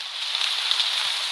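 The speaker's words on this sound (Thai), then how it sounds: "เห็นไหมครับมีเสียงฝนตกออกมานะจ๊ะ" Rain sound effect from a steel tongue drum meditation app on a mobile phone, a steady hiss of pattering rain, even and continuous for the short stretch, with no drum notes.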